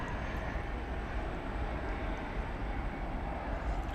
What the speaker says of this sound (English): Super Cargo Master being a small plane